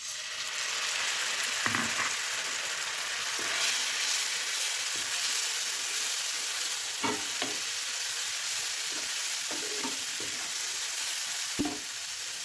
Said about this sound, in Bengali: দেখুন আমার মশলাটি প্রায় কষানো হয়ে আসছে।